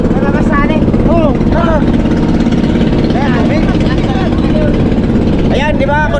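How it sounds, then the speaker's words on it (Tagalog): A small boat engine in good condition runs steadily after starting on a single pull, a loud, close, continuous drone. People chatter and shout over it at several points. "Condition lang yung makina mga idol, no? Isang click lang siya, sa isang bira lang ba?"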